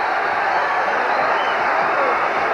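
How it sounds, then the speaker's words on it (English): A boxing arena crowd on its feet during the Thomas Hearns vs Wilfred Benitez fight, making a dense, steady roar of cheering that stays loud and unbroken throughout. "Crowd is on its feet here, exhorting what they expect will be the new champion"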